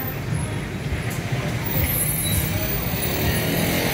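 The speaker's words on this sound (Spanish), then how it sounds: "Está llegando el carro de los residuos a recoger aquí" A garbage truck pulls into a residential neighborhood to collect waste, its engine a steady, close, heavy rumble with broad road noise throughout and no clear breaks.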